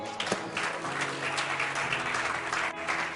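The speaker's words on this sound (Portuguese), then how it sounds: "Se você acredita o que você escutou, Aplauda al Señor." A church congregation applauds during a sermon, a steady wash of many hands clapping at moderate loudness for the whole stretch, with no speech over it.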